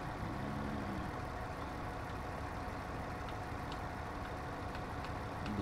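A tractor engine idles steadily in Farming Simulator 17, a continuous low rumble holding at an even level throughout, with no talk over it.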